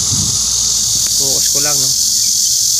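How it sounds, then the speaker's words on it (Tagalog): Crickets chirp steadily in a loud, continuous high-pitched drone beside a roadside, with a brief spoken phrase breaking in partway through. "medyo maingay ang mga kuliglig"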